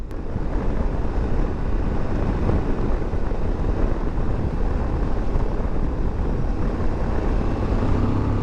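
A 2023 Suzuki V-Strom 1050DE motorcycle pulling hard at full throttle in fifth gear, its steady engine roar blended with heavy wind rush, loud and unbroken throughout.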